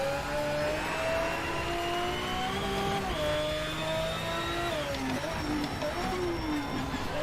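Car engine in the Shift 2 racing video game revs steadily for several seconds, its pitch climbing and dropping with gear changes, loud and continuous with no talk over it.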